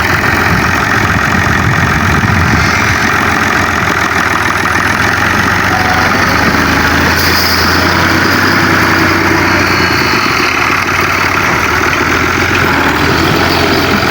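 A heavy tractor engine rumbles continuously and loudly close by at a house construction site in Punjab, Pakistan, a steady droning roar, with no voices.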